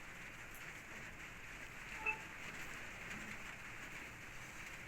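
Soft, steady rainfall hisses evenly in the background, with no one speaking.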